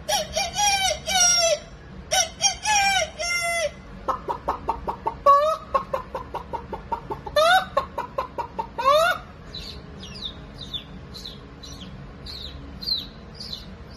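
A human voice mimics a rooster, repeating crowing and clucking calls in quick bursts, then softer chirpy sounds toward the end.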